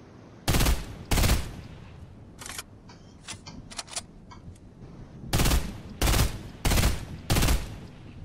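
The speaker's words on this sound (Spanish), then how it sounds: "¿Por qué hay tiros detrás?" Gunfire breaking out behind the player in a Fortnite Chapter 2 match: sharp broadband bursts, two early shots and then a rapid cluster of four later, with softer distant pops in between, loud and close.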